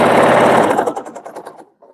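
A sewing machine stitches a quilt at high speed, giving a loud, fast mechanical rattle that slows into separate clacks and then stops, with a few faint taps after it.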